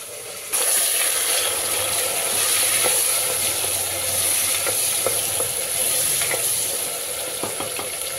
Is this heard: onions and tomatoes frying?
yes